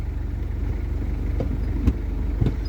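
A manual truck idles with a steady low rumble and pulls off in first gear, the engine note holding close and even with a couple of faint knocks, no one speaking.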